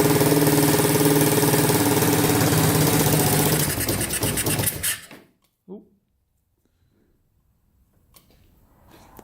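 A Kawasaki KLT 250 three-wheeler engine runs loud and steady with the choke off, then cuts out abruptly about halfway through, leaving near silence with a faint clunk afterward.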